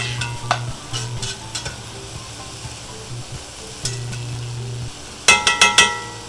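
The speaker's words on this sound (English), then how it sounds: "Just kind of want to get these stirred up some." Chopped vegetables sweat in a pot for a leftover brisket chili while a spatula stirs them. A soft sizzle runs underneath, with scattered scrapes of the spatula and a quick burst of sharp clinks near the end, no talking.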